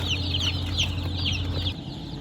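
About 60-70 Ross 308 broiler chicks cluck repeatedly in short, close calls over a steady low hum, the clucks overlapping in an uneven rhythm.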